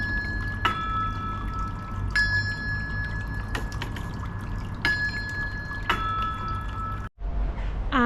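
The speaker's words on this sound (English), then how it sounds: "I do really like the water wheel feature." Water from the wheel at Calderdale Industrial Museum in Halifax pours and splashes steadily, with bright drips and clinks on top, close and continuous, then cuts off briefly near the end.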